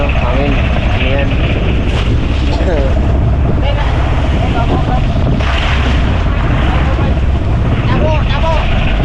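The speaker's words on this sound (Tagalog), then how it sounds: "Medyo malaki na alon na at malakas na yung hangin." Strong wind buffets a small boat at sea on the way home, with broadband rushing wind noise, rolling waves and water sloshing continuously throughout, and some faint voices underneath.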